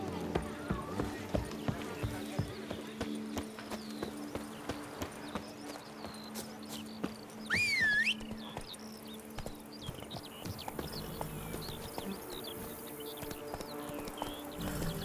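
Roach, a horse in The Witcher 3, gallops with steady rhythmic clip-clop hoofbeats close by, accompanied by game music and a brief whinny-like sweep, continuing throughout.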